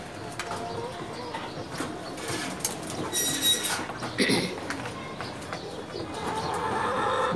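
Pigeons coo in a pigeon loft, soft and intermittent against background rustling and wing flutters, with a few sharper bird calls and voices nearby.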